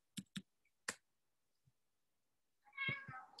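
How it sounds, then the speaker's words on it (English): A house cat meows near the end, a short harmonic call heard indoors after a few sharp clicks, with no talking. "If you heard my cat, just meow."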